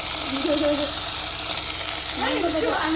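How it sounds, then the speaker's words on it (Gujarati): Mixed vegetables hit hot oil already spiced with cinnamon in a home kitchen pan, giving a loud, steady crackling sizzle throughout, with a brief voice heard faintly over it. "હા આ મિક્સ વેજીટેબલ નાખી દીધા"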